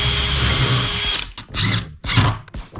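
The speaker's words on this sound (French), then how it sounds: "je visse le deuxième côté" A power drill drives a screw into the second side of a wooden shutter frame, a long steady whir followed by two shorter bursts, loud and close.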